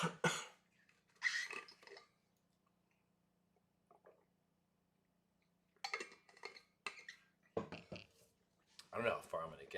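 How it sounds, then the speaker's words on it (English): Several dry, harsh coughs from a person, close and fairly loud, come in short bursts separated by quiet pauses, with a faint steady hum underneath. "Oh, this cough."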